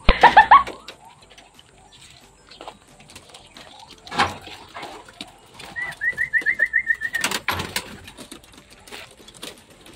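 Racing pigeons being handled during training make soft coos and brief calls, with a burst of wing flapping near the start and a run of rolling, repeated cooing later, fairly close in a quiet setting.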